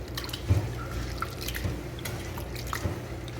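Water is added to ghee rice in a cooking pot, giving a soft, quiet splashing and dripping that runs steadily, with a few slightly louder drops standing out.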